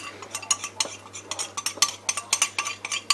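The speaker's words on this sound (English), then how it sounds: "So we have our paprika, and I'm going to add that into the meat and the onions." Paprika being stirred into lamb and onions in a pan for a lamb tagine, heard as a steady run of close utensil scrapes and light metallic clinks against the pan, with no talk.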